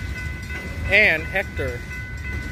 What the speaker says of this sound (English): This is gonna be a long train